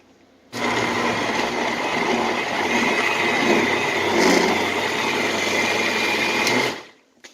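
A blender blending salsa whirs loudly and steadily for about six seconds, then shuts off abruptly.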